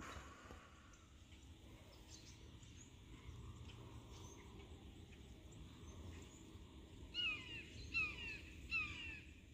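A small raptor gives a series of sharp, repeated calls in the distance near the end, over a steady low background rumble.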